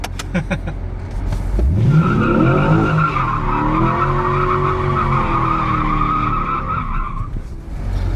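An Audi car drifting under hard acceleration: the engine note climbs steeply, then a loud, close, sustained tire screech holds for about six seconds before easing off.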